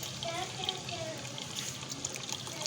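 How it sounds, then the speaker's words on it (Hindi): Strained meat stock (yakhni) poured into a cooking pot for white pulao gives a soft, steady trickle of liquid throughout, fairly faint, alongside light kitchen clatter. "यखनी ऐड हो रही है इसमें,"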